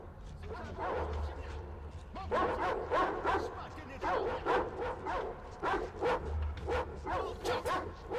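A dog in Metro Exodus lets out repeated yapping barks and whimpers in clustered bursts, fairly close, mixed with people talking.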